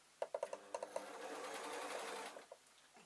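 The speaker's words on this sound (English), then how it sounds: "So I'm still top stitching, which is quite nice, so I can see what I'm doing." A sewing machine top stitching the waistband of suit trousers, a close run of quick needle bursts at the start, then a steady whirring stitch for about two seconds before a few last short bursts.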